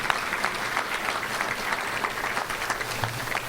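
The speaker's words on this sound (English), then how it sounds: "let's give a round of applause for that" Steady audience applause at a touchdown club luncheon, dense clapping from a roomful of people at moderate volume, holding evenly throughout with no talk over it.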